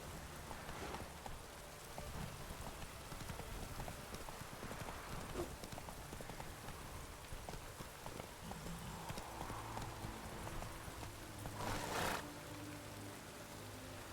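Horse hooves clip-clopping at a gallop in the video game The Witcher 3, a steady rhythmic beat over rain patter and ambient game sound, moderately loud throughout.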